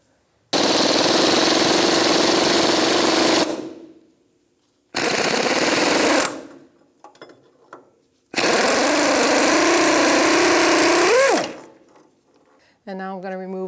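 Power tool, likely an impact wrench, driving the 18mm lower front shock bolt on a 1992-1996 Ford F-150, in three loud, close sustained bursts separated by pauses, with brief clinks and a short tone at the end.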